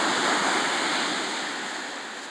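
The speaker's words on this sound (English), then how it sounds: "Wonderful sound, the eternal sound of the ocean." Ocean waves and surf wash ashore at Windansea Beach in La Jolla around sunset, a broad steady roar of breaking water that slowly fades over a couple of seconds, with no voices.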